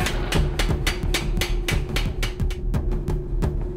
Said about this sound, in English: Now we're gonna go to the very edge of our dies on the power hammer and start pulling out that plunge grind